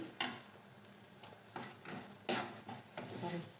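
Sweet potato pieces fry lightly in a little oil in a pan, with a faint sizzle under a series of soft, intermittent scrapes and taps from stirring.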